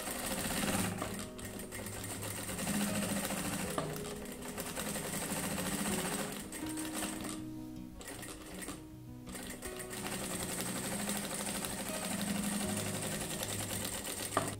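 A sewing machine runs steadily, topstitching fabric on a small boxy cosmetic pouch sewn from reused scraps, its motor whirring continuously and close up with only a brief dip in the middle.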